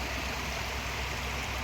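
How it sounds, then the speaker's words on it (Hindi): The Mahananda river at Gulama near Siliguri rushes and babbles as it splits into two channels, a steady, even wash of water heard from midstream, moderately loud and unbroken. "और कलकल करती हुई महानंदा नदी के बीचों बीच इस समय हम इसकी धारा को"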